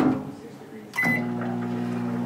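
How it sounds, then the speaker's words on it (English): A microwave oven switches on with a click and settles into a steady hum while heating two cups of soy creamer for bread dough, the drone running continuously after a quiet start. "Heat it up in the microwave."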